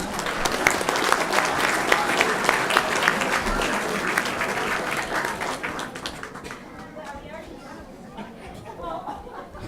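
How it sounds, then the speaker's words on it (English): Loud applause for parents from a crowd at a school district board meeting, dense clapping mixed with chatter, tapering off toward the end as voices carry on beneath. "we'd like to recognize the parents with a round of applause"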